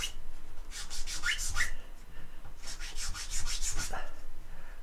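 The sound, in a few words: filing wood with a flat file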